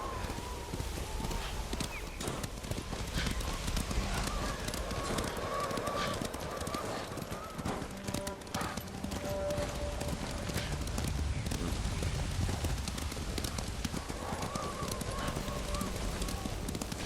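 Horse hooves clip-clop in a steady, rapid rhythm throughout a stretch of Ghost of Tsushima gameplay, mixed with a horse's snorts and a faint honk-like call.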